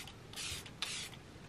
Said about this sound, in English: I must stop speaking straight after spraying a mist.